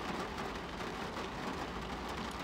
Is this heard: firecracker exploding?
no